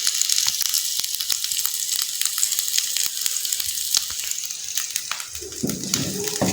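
Food sizzles steadily in a hot pan while fenugreek paratha filling is cooked, a dense crackling fry with scattered pops and a brief stirring clatter near the end.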